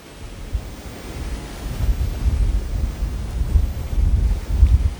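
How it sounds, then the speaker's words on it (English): Gusty wind buffets the microphone on an open winter beach while surf rumbles steadily in the background, with the low roar swelling louder and more turbulent over the last few seconds. "Out here it gets very gusty."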